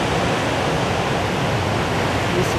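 Ocean surf breaking along the coast at Crozon, a dense, steady roar of broadband wash with no distinct individual crests, filling the whole stretch without letup.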